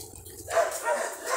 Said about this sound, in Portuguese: Desculpa aí o barulho, os cachorros latindo aqui.